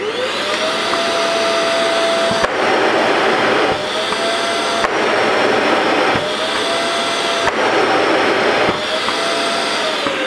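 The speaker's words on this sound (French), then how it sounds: "vous allumez donc l'aspirateur" A Kärcher WD6 Premium wet-and-dry vacuum cleaner runs with a loud, steady roar and a whine. Sharp thumps break it every second or so as the automatic filter cleaning cycles. No one speaks.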